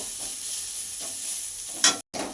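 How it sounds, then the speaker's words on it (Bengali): Chopped medium onion frying in mustard oil in a pan, a steady close hiss of sizzling with a soft stir and a brief scrape near the end, no voices. "তেলের মধ্যে আমি মাঝারি সাইজের একটা পেঁয়াজ কুচি দিয়ে দিয়েছি তো পেঁয়াজটা এখানে ভেজে নেব"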